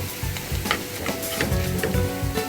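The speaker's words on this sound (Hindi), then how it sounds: "डालती हूँ मिर्च।" Chili goes into dal browning in a hot pan, giving a steady close sizzle and frying hiss with repeated stirring scrapes of the spoon through the mixture, no talking.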